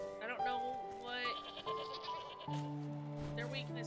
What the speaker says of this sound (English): Goats. Mountain goat. Shaggy, cousin of the familiar goats.